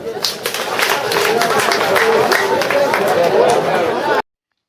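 Schoolgirls at a government school in Busia clap for the boys, a dense, sustained burst of crowd clapping mixed with chatter that cuts off suddenly near the end.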